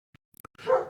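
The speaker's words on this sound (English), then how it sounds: "Well, my dog's barking." A dog barks indoors, a few faint sharp sounds followed by one louder, fuller bark close by.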